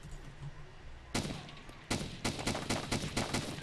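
Gunshots in Arma 2 DayZ Overpoch, one sharp crack followed after a pause by a rapid string of several shots in quick succession, fairly close and loud over quiet ambience.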